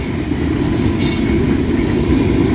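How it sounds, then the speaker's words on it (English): Loaded CSX 3-bay coal hoppers of an 8300 series on a nighttime mixed freight train roll past close by, giving a loud, steady rumble with faint wheel squeal and rhythmic clicking over the rail joints. "8300 series 3-bay hoppers"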